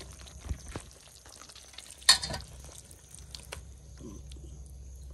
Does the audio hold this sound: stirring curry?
yes